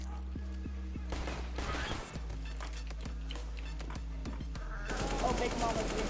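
AK rifle fire in Counter-Strike: Global Offensive zombie mode, with several sharp single shots and short bursts ringing out over a steady low background hum.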